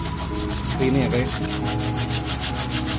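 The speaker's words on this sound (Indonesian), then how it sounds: "baru kita menggunakan amplas kasar dulu juga" Coarse sandpaper rubbed by hand over a carbon kevlar surface, a rhythmic scratchy rasp of repeated strokes close to the mic, with someone talking briefly over it.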